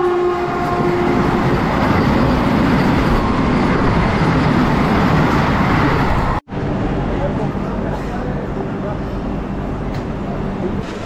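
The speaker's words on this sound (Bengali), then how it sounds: "আর এখানেই কিন্তু আমাদের সাথে দেখা হবে হাওড়া পাটনা" Howrah-Patna Vande Bharat Express rushes past near Panagarh station, a loud close rumble of wheels and carriages with a horn-like tone, then a sudden cut to a quieter, more distant rail and traffic sound; voices may be present.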